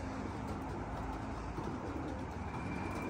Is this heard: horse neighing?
no